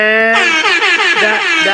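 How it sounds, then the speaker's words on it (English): A loud, sustained air horn sound effect blasts for under two seconds, its bright wavering tone with a slight warble and dip near the end, standing alone without talk. "That deserves an air horn"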